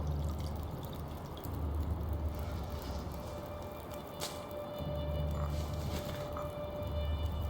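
Drinking tea in The Long Dark, a steady liquid pour and gulping over a low rumbling wind-like background, moderately loud and uninterrupted.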